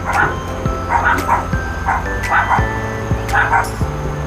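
Several dogs bark and yip repeatedly in quick bursts, moderately close, indoors, with a high whining tone and low background hum running underneath.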